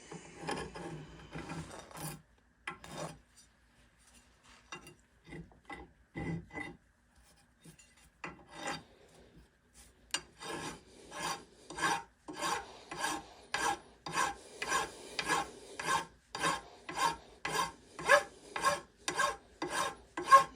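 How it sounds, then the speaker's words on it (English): A hand file chamfers the edge of an axe, starting with a few scattered scrapes and pauses, then settling into a steady run of regular, close, rasping strokes. "just take your file, hold it nice and level"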